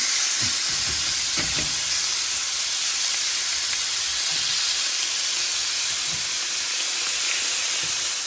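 A steak searing in a hot grill pan gives a steady, loud sizzle and hiss with steamy spitting, broken by a few brief low knocks early on, with no talking.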